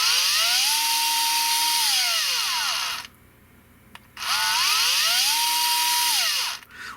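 A Fanttik L1 Pro 3.7V cordless power screwdriver whirs up in pitch, holds a steady high whine, then winds down. After a short quiet gap it runs a second identical cycle, loud and close.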